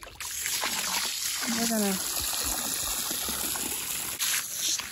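Water gushes steadily into a water trough at a pony pasture, a broad continuous splashing rush that persists throughout, with a person talking over it near the start.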